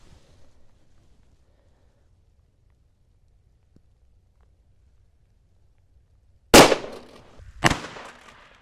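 A Smith & Wesson M&P 2.0 9mm pistol with a ported barrel fires twice at polycarbonate gas-station plexiglass, two loud, sharp cracks about a second apart after a long stretch of near silence.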